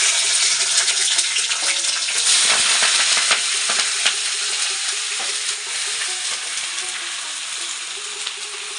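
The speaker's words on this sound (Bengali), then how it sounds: "কড়াইতে দিয়ে দিচ্ছি তেজপাতা আর হচ্ছে" Bay leaves crackle and sizzle in hot oil in a wok, a steady dense frying hiss that holds throughout and eases off slightly toward the end, with no voices.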